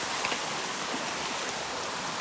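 A natural village waterfall in Ratnagiri, Konkan, flowing with a steady, dense rush of falling water that fills the whole moment without a break and with no voices.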